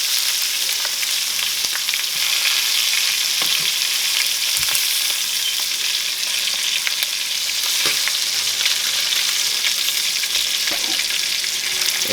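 Pieces of food browning in a pot, giving a continuous bright sizzle and crackle of frying with scattered small pops and stirring noises, steady and close, with no voices.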